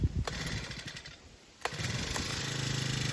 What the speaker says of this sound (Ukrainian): Отак заводяться чотирьохтактні мотокоси.